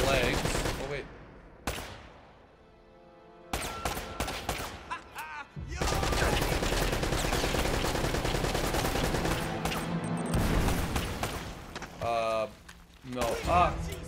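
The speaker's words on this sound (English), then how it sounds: "I'm gonna try to shoot that guy in the legs" Gunfire in Uncharted, with bursts of shots and rapid automatic fire amid loud game music and effects, and a voice talking over parts of it.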